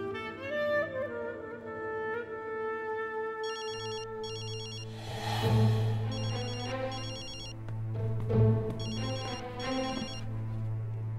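A telephone rings in a drama scene, an electronic ringtone repeating in bursts over a continuous low hum and background music, with no one speaking.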